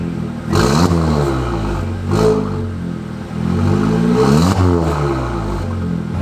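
A car engine with a loud, raspy exhaust revs repeatedly, its pitch surging and dropping between blips over a rough idle.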